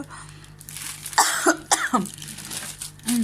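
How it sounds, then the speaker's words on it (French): Several short coughs in quick succession from one person nearby, with quiet pauses between them. "Pardon, je tousse."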